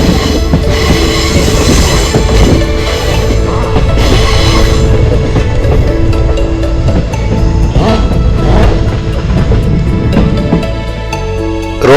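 A passenger train on the Punalur–Thenkasi line runs steadily along the rails, with a loud continuous rumble, metallic squeal and rattling clatter filling the whole stretch, no voices heard.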